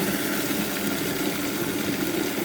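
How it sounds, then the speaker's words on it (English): Water pours steadily into a mop bucket during spring cleaning of a cottage, a continuous close rushing and splashing fill with no pauses. "Let's get a bit more water in there."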